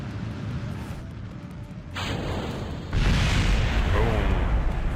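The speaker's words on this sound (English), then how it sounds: "Let's watch this explosion." A spaceship explodes in a video game, with loud, rumbling booms that swell at about two seconds and hit harder a second later, then roll on as a sustained, close blast without any talking.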